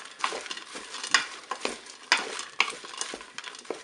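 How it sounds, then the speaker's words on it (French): Sautéed potatoes being stirred in a Cookeo multicooker pot with a utensil, giving a run of scraping, clattering strokes over soft sizzling, fairly close and irregular, with no talk. "mélanger mes pommes de terre rissolées"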